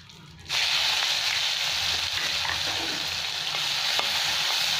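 Onions dropped into hot oil seasoned with cumin and asafoetida, a quiet hiss that jumps into a loud, steady sizzle and keeps going with faint stirring clicks.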